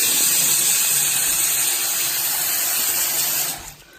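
Water gushes strongly from household taps fed by a newly installed Viessmann Vitodens boiler, a loud, steady spraying rush close by that cuts off sharply near the end.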